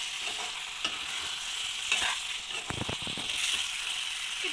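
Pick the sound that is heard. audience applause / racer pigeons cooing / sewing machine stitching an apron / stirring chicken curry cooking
stirring chicken curry cooking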